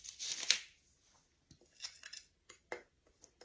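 Soft scraping and light clinks of a utensil stirring Himalayan salt into flour in a bowl for persimmon pie, a brief rustling burst at first, then sparse taps, close and quiet, with no talking.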